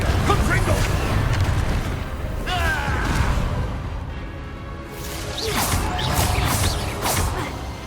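Fiery Confringo spell blasts in Hogwarts Legacy combat, sustained whooshing and booming bursts over dense battle noise, loud and close, with a voice shouting over the mayhem.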